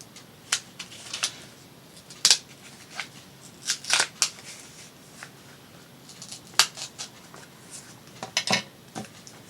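Scissors cutting at a craft table, giving a scattering of crisp, bright snips and clicks at uneven intervals, fairly close and with no talk over them.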